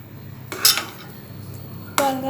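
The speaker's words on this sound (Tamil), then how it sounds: "உப்பு போட்டு கிண்டிட்டு நெய் ஊற்றி கொஞ்சம் கொஞ்சமாக கிண்டலாம்" A spoon clinks sharply against a pan twice while sweet akkaravadisal is stirred with ghee, with near metallic taps separated by a quiet pause.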